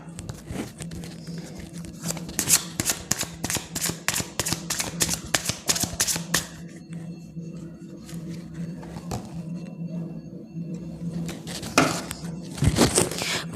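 Tarot cards shuffled in rapid riffling bursts up close, then a pause with soft handling before a card is drawn and slapped down.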